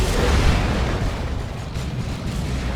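Missile launcher explosions in the real-time strategy game Dawn of War 2, a dense, loud burst of booming blasts that rumbles heavily at first and then trails off into a rough, sustained roar.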